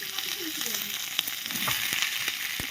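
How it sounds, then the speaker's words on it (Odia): Capsicum and onions fry in a pan, giving a steady close sizzle with faint stirring scrapes and a few sharper crackles, and no voices over it. "କ୍ୟାପ୍ସିକମ୍ ପିଆଜ ପକା ହେଲା ଏବେ"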